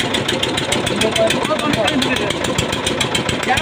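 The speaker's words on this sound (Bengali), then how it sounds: "আর এটা হচ্ছে আমাদের ইন্ডিয়ান লঞ্চ।" Engine of an Indian river launch boat passing on the river at Taki, a loud steady throbbing drone that runs through the whole clip, with a person talking over it.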